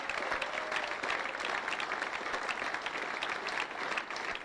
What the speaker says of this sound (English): a generous round of applause too there for Australia